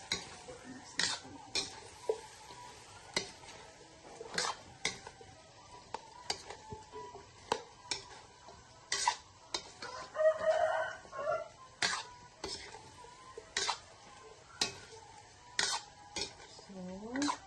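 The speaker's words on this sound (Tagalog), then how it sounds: "Tapos, lagyan natin siya ng fried garlic para mabango. Yan. Tapos mix." Buffalo wings being mixed with fried garlic in a pan, repeated clinks and scrapes of a utensil against the cookware in an irregular rhythm, with a rooster crowing faintly in the background.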